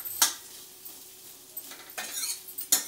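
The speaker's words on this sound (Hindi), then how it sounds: "अच्छे से नमक को मिक्स करेंगे" Carrots being stirred with salt in a cooking pan, a spoon clinking and scraping against the metal in a few distinct bursts, close and moderately quiet, with no voices.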